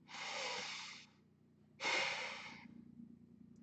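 Two strong nasal inhales during Tonglen meditation, heard close and quiet in an otherwise still room: a long airy draw through the nose, a pause, then a second sharper and louder breath.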